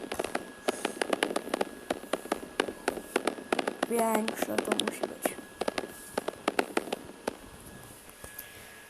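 Bombs and grenades exploding in a video game, a rapid run of sharp crackling pops and bangs, with a voice talking briefly over the blasts.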